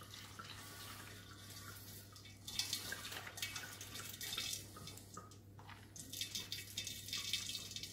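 Brewing liquid made with steeped grains is poured through a sieve as a steady, fairly faint trickle and splash with bursts of heavier flow, over a low electrical hum.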